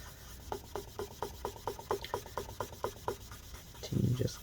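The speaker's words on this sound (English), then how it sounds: "Continue just cleaning it, get all that rubbing alcohol into the adhesive, scrape it all out." Battery adhesive soaked in rubbing alcohol is scraped inside a mid-2017 13-inch MacBook Pro A1708, producing a regular series of short, close rubbing strokes, followed by a brief low thud at the end.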